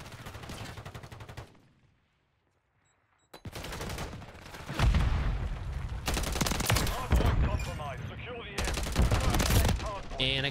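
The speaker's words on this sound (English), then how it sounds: "And I get shot from behind again." Call of Duty MW3 gunfire, with bursts of rapid automatic shots and a fusillade of loud, close reports broken by a short silent gap, then dense continuous firing.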